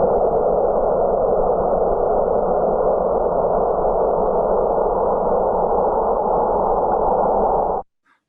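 Earthquake seismic data converted to sound plays as a long, steady, droning hiss-like rumble. It holds an even loudness for about eight seconds, then cuts off abruptly into silence.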